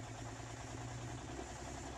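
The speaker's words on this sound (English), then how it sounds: "And people are probably familiar with semis, big diesels, noisy, a lot of black smoke" A big diesel semi truck engine idles just after starting, a steady, low, rumbling drone that is fairly quiet and even throughout, with no voices.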